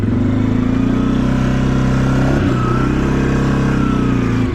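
Quad ATV engine running at steady, sustained high revs while towing a sled through snow, a loud continuous motor drone close by with a brief dip in pitch midway, no voices.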